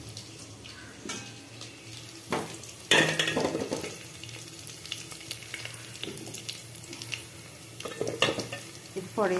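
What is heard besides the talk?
potatoes and onions frying in oil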